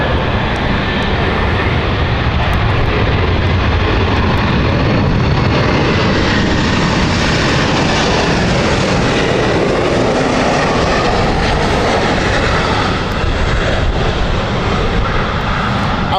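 A CityFlyer airliner on the Ibiza flight at London City Airport gives a loud, close, sustained engine roar that fills the whole stretch, with no talking.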